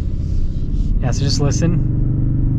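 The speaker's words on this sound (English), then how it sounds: "It sounds good too for a V6. Kind of has like a deep grumble to it." A deep, steady V6 truck engine rumble hums close by while someone speaks briefly over it.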